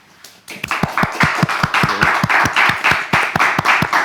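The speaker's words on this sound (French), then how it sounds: "elle est venue pour applaudir aussi" Applause from a small audience at the close of a podcast recording, starting abruptly and continuing as close, steady clapping with individual claps standing out.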